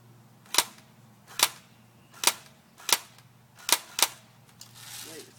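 An airsoft BB gun fires six single shots in semi-automatic mode, each a sharp, close mechanical crack at roughly evenly spaced intervals, followed by a soft rustle.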